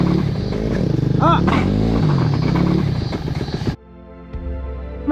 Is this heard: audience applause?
no